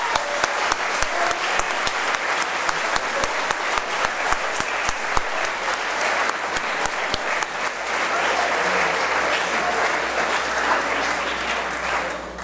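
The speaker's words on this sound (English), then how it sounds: "So let's give those guys a round of applause." Sustained applause from a school assembly audience honoring students inducted into the French Honor Society, steady and dense throughout, with a few sharper claps standing out early on.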